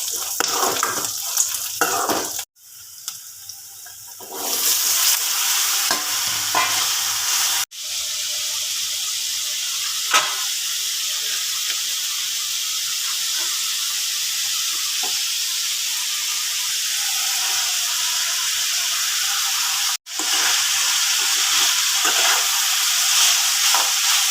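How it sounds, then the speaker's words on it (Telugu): A steady, loud sizzling hiss of tempering spices and chana dal frying in oil continues for the whole stretch, cut by a few abrupt breaks, with no voices. "లైట్గా పోపు అయితే వేసాను"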